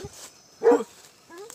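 A single short dog bark sounds at a moderate distance, with a faint whimper-like tone afterward in otherwise quiet surroundings.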